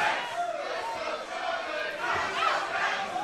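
The NXT TakeOver wrestling arena crowd keeps up a continuous roar of cheering and chanting, a dense mass of voices filling the space.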